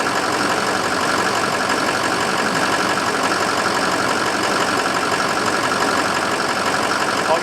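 A Ford F350 pickup's 6.0 Powerstroke diesel V8 idles steadily and smoothly, with a continuous, even engine rumble and knock that holds throughout at close range, with no talking.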